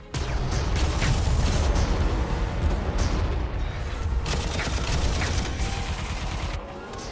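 Stompers firing in a Warhammer 40,000 video game: a dense, continuous barrage of booming shots and rumbling impacts, loud and sustained, with sharper cracks scattered throughout.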